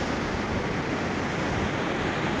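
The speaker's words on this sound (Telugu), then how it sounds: "ఇలా జలపాతం ఎప్పుడు పరవలుతో నిండిపోతూ ఉంటుంది" Rushing water from a waterfall and river beside the trekking path on the Kailash Mansarovar route, a steady, dense roar close by with no break or voices.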